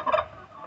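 A turkey on a poultry farm gives a single short, loud gobble, followed by faint lower clucking.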